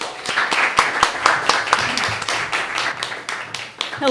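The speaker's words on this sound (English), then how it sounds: "Please give a warm round of applause to your host," Audience clapping at an open mic night at the Center for Talking Arts in Hamilton, sharp individual claps from a modest crowd, fairly close and lively.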